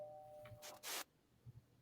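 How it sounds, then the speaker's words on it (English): A two-tone doorbell chime sounds once, quiet and somewhat distant, against a low background hum with a few soft knocks and rustles. "the doorbell rang on its own"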